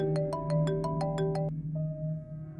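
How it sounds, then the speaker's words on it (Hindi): A short melodic phone ringtone plays a quick rising sequence of notes, then a single held tone, over a low background hum. "अनवर का फोन।"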